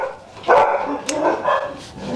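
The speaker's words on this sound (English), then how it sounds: "Sorry about the dogs." Pet dogs barking indoors in a home kitchen, a few sharp, close barks and yips in quick succession, loud and uneven, with a brief whine mixed in.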